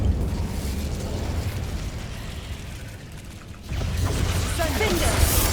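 Incendio fire spell blasting in Hogwarts Legacy, a loud sustained roaring burst with a second surge of crackling fire near the end, dense and close.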